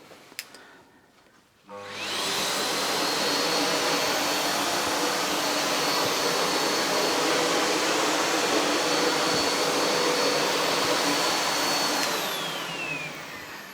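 A Sebo Felix vacuum cleaner switches on after a brief click and runs close by with a steady, loud, full-band whoosh and motor whine that holds for about eleven seconds before easing slightly at the end.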